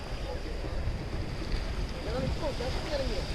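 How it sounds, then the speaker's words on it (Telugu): Sea water surges against the rocks at the Kanyakumari sunset point as a steady, close roar of churning water mixed with wind buffeting the microphone. "వాటర్ బాగా బీభత్సంగా ఫ్లో అవుతుంది."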